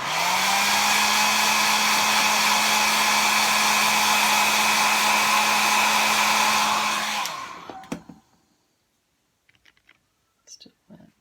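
A hair dryer blows steadily and loudly while drying wet watercolor paint on a floral painting, a constant whooshing hum that cuts off near the end, leaving a few faint clicks and taps.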